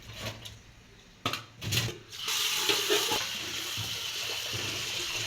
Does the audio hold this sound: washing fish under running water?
yes